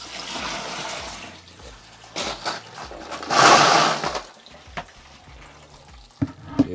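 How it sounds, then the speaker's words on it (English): Water flushes and swishes through bubble hash bags during ice water hash making, with bursts of sloshing and trickling plus a few knocks near the end, fairly close with no talk. "And then flush a bit more water from there."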